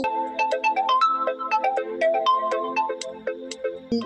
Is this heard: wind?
no